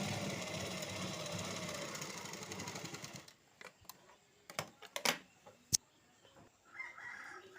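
Rapid mechanical stitching of a sewing machine sewing a buff sleeve runs steadily and close for about three seconds, then stops, leaving scattered clicks and handling knocks from the fabric and machine.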